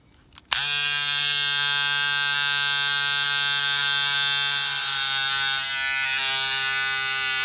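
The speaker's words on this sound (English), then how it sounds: "if you have little whiskers, you get this Remington shaver." A Remington electric shaver switches on abruptly and runs with a steady, loud, high-pitched buzz as it skims whiskers off sheer fabric, alone throughout.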